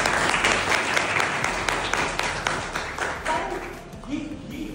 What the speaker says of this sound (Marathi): याच्यासाठी टाळ्या होतात आपल्याकडे